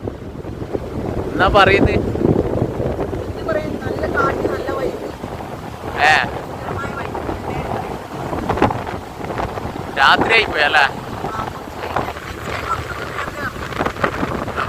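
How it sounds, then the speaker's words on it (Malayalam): Strong wind buffets the microphone on Mattool beach at nightfall, a steady loud roar with surf mixed in, while people talk over it in short bursts. "ഭയങ്കര കാറ്റല്ലേ, ഭയങ്കര കാറ്റ്."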